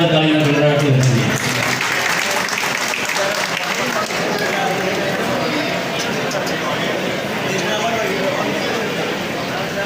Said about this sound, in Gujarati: સન્માનને આપણે જોરદાર તાળીઓના ગણગણાટથી વધાવીએ.